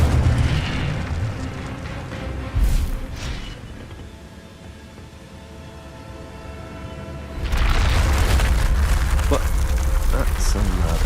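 Incendio fire spell cast in a Harry Potter video game: a loud rumbling burst of flame and booming noise opens, fades to a low hum, then a second loud roaring surge takes over to the end, with voices heard.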